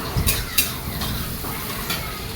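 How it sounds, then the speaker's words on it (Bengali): Onion softening in a pan gives a steady low hiss with faint crackle throughout, while occasional metallic clinks of a spoon against the pan cut in near and briefly. "তো পেঁয়াজটা একটুখানি নরম নরম করে ভেজে নেব, বেশি ভাজবো না।"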